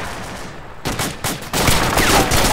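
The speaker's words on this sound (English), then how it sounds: "I'm hearing AK close south" AK rifle fire crackles close by in a military game, with a few separate loud shots followed by a dense burst of rapid automatic fire.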